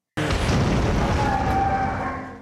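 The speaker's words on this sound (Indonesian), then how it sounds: "Sayangnya Bull malah terkena ledakan bom" A sudden loud bomb blast erupts, followed by a long rumbling roar that slowly decays.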